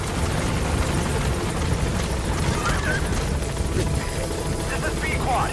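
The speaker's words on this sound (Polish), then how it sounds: "za chwilę śmigłowiec doleci, więc już będziemy mogli odlecieć" Helicopter approaching in the open-world stealth game Metal Gear Solid V: The Phantom Pain, a steady rotor drone that stays loud and constant beneath continuous speech.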